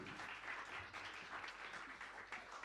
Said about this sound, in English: give a stadium-sized round of applause for our next performer